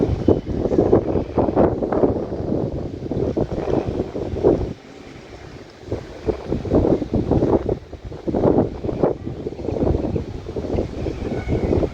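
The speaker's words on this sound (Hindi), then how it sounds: "कितनी अच्छी हवा चल रही है आप समझ सकते हैं" Strong outdoor wind in rainy-season weather buffets the microphone in loud, rushing gusts that roar almost continuously, easing into a brief quieter lull near the middle before building again.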